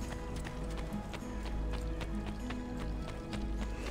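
Quiet, steady hoofbeats of a horse galloping in the video game Assassin's Creed 2, rhythmic clip-clop over low background rumble.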